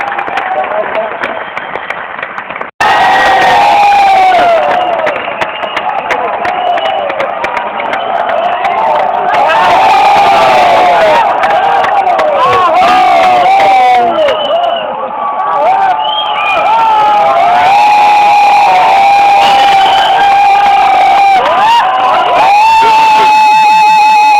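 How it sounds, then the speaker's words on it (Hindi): A large crowd applauds and cheers loudly and continuously, with clapping, whistles and shouts blending into a sustained roar. "जोरदार तालियां"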